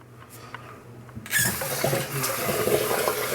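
A bathroom tap runs water into a sink during a shave, starting suddenly as a loud, close, steady rush after a quiet start.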